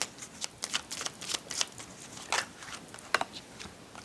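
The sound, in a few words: tarot cards being shuffled and pulled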